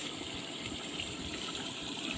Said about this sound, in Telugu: అందుకే మటన్లో ఉన్న వాటర్తో సహా వేసేసారు.